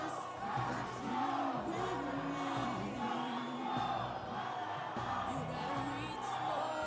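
Spectators in the grandstand cheer and shout at a men's football match between the Solomon Islands and New Caledonia at the 2017 Pacific Mini Games in Vanuatu, a steady crowd roar with a commentator talking over it.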